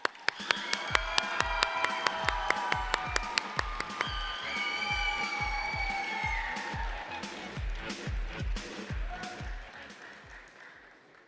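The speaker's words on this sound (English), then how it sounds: "Let's give our winning team one more round of applause." An audience at a state FFA leadership conference opening session gives the winning team a round of applause. Rhythmic unison claps lead off, then blend with cheering and tonal whoops, and a steady clapping beat continues beneath it.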